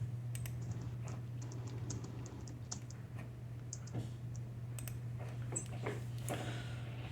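Computer keyboard typing, a steady run of light clicks and taps close by over a constant low electrical hum, with no voices.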